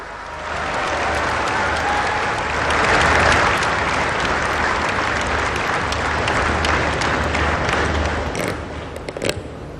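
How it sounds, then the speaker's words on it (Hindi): Large audience at the India International Bullion Exchange inauguration in GIFT City, Gujarat gives the Prime Minister sustained, loud, dense applause, swelling and then tapering off with a few last claps. "आइए जोरदार तालियों के साथ आमंत्रित करते हैं"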